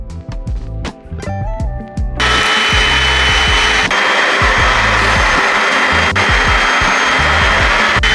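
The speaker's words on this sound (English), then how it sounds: "So I went in, vacuuming my couch." A vacuum cleaner works over couch cushions during a home deep clean, a loud continuous whooshing drone that kicks in after a short stretch of background music and holds steady.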